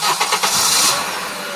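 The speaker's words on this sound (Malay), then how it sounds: "Amin pun cubalah menghidupkan enjin kereta Aisyah" A car engine is started after water has been poured into it. The starter cranks in a quick burst of rhythmic turns, then catches into a loud, steady running hum, close by with no talk.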